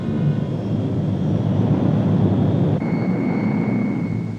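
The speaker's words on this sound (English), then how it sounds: "The C-130 Hercules, newest and most versatile addition to the Navy's air fleet, provides an efficient lifeline between the isolated stations and the coastal support base." A Navy C-130 Hercules transport aircraft flies in Antarctica with a loud, steady engine roar and drone that holds throughout, and a faint tonal whine rises partway through.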